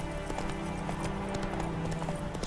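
Hooves clip-clop in a quick, steady rhythm as a horse gallops in The Witcher 3, close and continuous with faint background ambience.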